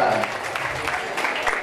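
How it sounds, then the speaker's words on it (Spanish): Audience applause at a women's social gathering in San Martín breaks out as a dense crowd clap, loud and steady, mixed with cheering voices and chatter throughout. "Fuerte el aplauso para Manuel Belgrano"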